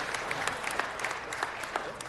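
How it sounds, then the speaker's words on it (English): A city council meeting audience gives a steady round of applause, dense clapping from a modest crowd in a hall. "Let's give them one more round of applause"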